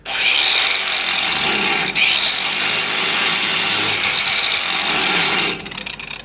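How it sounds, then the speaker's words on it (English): Handheld angle grinder grinding down a 6010/7010 downhill pipe weld, a steady loud abrasive whine running continuously for about five seconds with a brief dip near two seconds, then cutting off. "I don't suggest grinding with a grinder like that until you're skilled."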